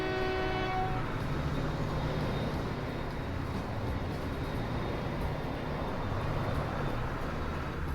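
A train in the Transport Fever game rumbles along steadily, with a horn blast at the start and a continuous rolling clatter that holds at an even, moderately loud level.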